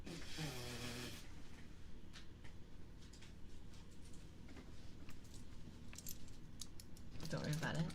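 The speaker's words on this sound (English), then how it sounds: "Hey, keys, jingle, jingle." Bright metallic jingles of keys sound in scattered clusters throughout, close and moderately quiet, with a fuller jangle at the start and end in an intimate ASMR-style setting.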